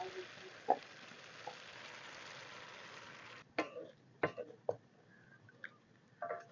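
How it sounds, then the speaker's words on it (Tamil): A blend of coconut, garlic and cumin goes into a pan of frying fish. A steady, soft sizzle plays for a few seconds, then gives way to scattered clinks and taps of utensils. "ஸோ இப்போ நான் இந்த பிளேண்டை ஊற்ற போகிறேன்"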